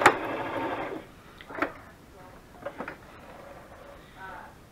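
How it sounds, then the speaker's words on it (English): A sewing machine runs a zigzag stitch while making book page pockets for a junk journal. A loud, fast whirring burst of about a second is followed by softer clicks and short mechanical rattles, up close. "so I'm just sewing a zigzag"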